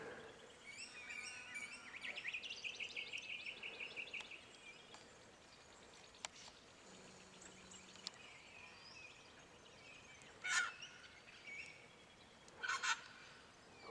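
Wattlebirds call in summer bushland at Boyagin among other chirping birds, with two loud, harsh bursts standing out near the end over a steady background of fainter birdsong.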